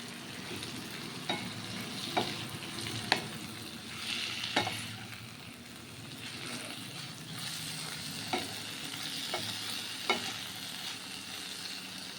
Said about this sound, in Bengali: চিংড়ি মাছটা দিয়ে বেশ ভালো করে কড়া করে ভাজতে হবে